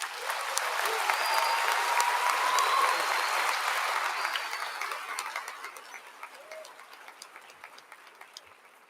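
Sustained audience applause fills a commencement ceremony hall, a dense clapping wash that swells early then gradually thins and fades over several seconds.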